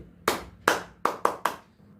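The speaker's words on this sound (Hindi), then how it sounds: "वो एक स्पेशल तरह का ताली बजाता था ऐसे" Five sharp, close hand claps in an uneven rhythm, alone in a quiet room, demonstrating a special kind of rhythmic crowd clapping.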